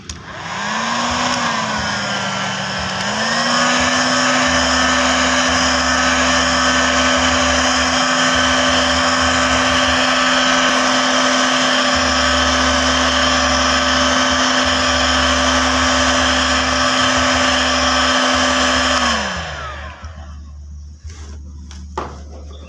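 A heat gun blows steadily on a strongly glued electric bike part, a loud, constant whining hum with a gentle pitch shift near the start. It runs for close to twenty seconds, then winds down and stops, followed by a few faint clicks.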